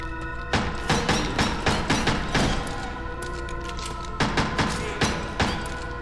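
Gunfire in the horror video game Crow Country crackles in two clusters of rapid, sharp shots, a dense volley up front and a shorter burst near the end, set over a steady low hum with no voices.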